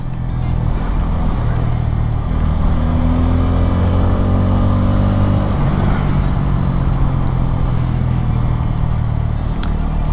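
A Bajaj Pulsar N250 motorcycle engine hums steadily in a low drone while riding along a rough, uneven road, with faint rattles and bumps over it, close and continuous.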